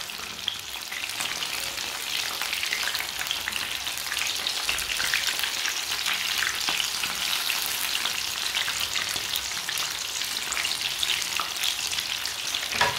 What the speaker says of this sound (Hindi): देखिए कितना अच्छा लेग पीस फ्राई हुआ है।